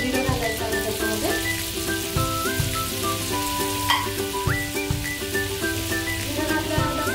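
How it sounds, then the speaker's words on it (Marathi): Cumin seeds sizzle in hot butter and oil in a pan, giving a loud, steady frying crackle with occasional stirring scrapes, close-up and continuous, while tonal music plays underneath. "बटर आपला गरम होतोय तोपर्यंत आपल्याला जिरं घालायचं आहे त्याच्यामध्ये"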